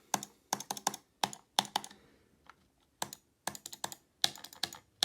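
Razer DeathAdder gaming mouse buttons clicked in quick bursts of crisp, close taps, several in a row, then a short pause, then more clusters, with no talking.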